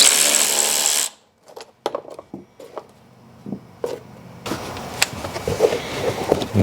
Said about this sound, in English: there's two screws that need to be taken out. These are star bits, so I'm gonna go ahead and remove them.